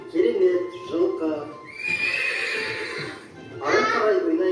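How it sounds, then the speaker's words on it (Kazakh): A horse neighs loudly with whinnies in several bursts, and a voice speaks between them; the sound is played as part of a children's animal-sounds guessing game set on a farm. "жылқы"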